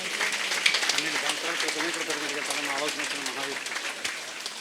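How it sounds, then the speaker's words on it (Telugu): An audience applauds at a meditation hall event in Mandapeta. The clapping is dense, steady and sustained for the whole stretch, with a few louder claps standing out. "ఒకసారి చప్పట్లు కొడదాం వారికి."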